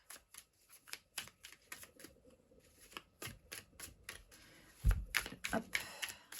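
A deck of oracle cards is shuffled up close in quick, rhythmic bursts of riffling snaps, growing busier and louder toward the end.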